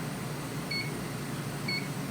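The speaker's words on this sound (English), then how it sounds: "that beep tells us that we're ready to take it out" Two short, clear electronic beeps from a zone cleaner about a second apart over a steady hum of machinery, with no talking.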